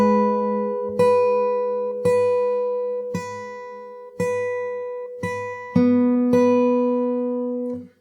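Fingerstyle acoustic guitar playing the riff from a song, evenly plucked notes roughly one per second with ringing open strings and a held final chord, close and clear with no talking.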